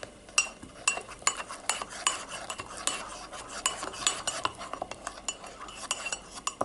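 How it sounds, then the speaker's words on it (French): A spoon stirring a frothy coffee drink in a cup, rapid continuous clinking and swishing close up, with faint speech in the background. "avec une cuillère on va mélanger tout ça"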